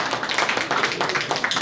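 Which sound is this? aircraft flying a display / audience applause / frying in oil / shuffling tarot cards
audience applause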